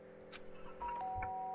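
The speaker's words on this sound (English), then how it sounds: "The sound of the doorbell forced its way into my room." A doorbell chimes inside the Danganronpa video game, faint and brief, a soft ringing tone over quiet background music.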